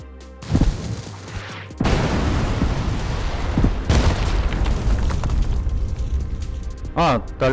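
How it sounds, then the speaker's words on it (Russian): Houses blow up in an online shooter video game, with heavy booms and crashing rumble rolling on continuously and players talking over the blasts. "Даже так, дома взрываются, что ли?"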